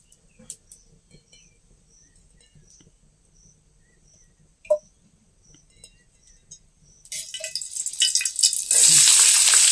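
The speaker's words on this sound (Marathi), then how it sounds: "मिरची त्याच्यामध्ये चांगली तळून निघाली" Quiet background with faint ticks and a sharp click, then a rising hiss and crackle as chillies drop into hot oil in a wok, sizzling loudly by the end.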